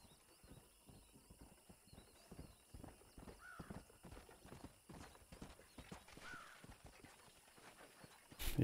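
A horse in the Red Dead Redemption video game trots closer with steady clip-clop hoofbeats and a brief whinny midway, quiet and growing slightly louder.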